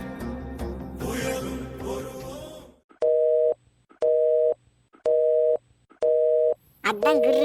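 Phone line buzzing with a busy-style tone: after a stretch of people talking, five evenly spaced, loud, identical beeps repeat with short gaps, and another voice cuts in at the end.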